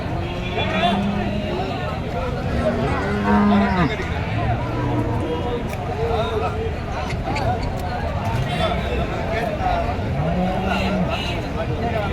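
Cattle, heifers and pregnant cows, low and moo repeatedly at the Karimangalam cattle market, several drawn-out calls spread through a busy, steady background of crowd noise and vehicles, with people talking throughout.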